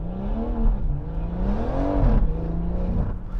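A BMW M140i engine revs hard while accelerating. Its loud, close, steady roar climbs and dips in pitch as it pulls through the gears, with no talk over it.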